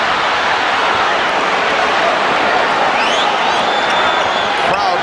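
Basketball arena crowd at a 1993 NBA Finals game between the Bulls and Suns, a sustained loud roar and groan filling the room as an open three-point shot goes up, with faint squeaks and court noise beneath.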